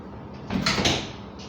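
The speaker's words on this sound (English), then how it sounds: "Door closed." An oven door closing in a home kitchen during baking, a single firm thud with a short rattling clunk, close by and fairly loud, with no talking.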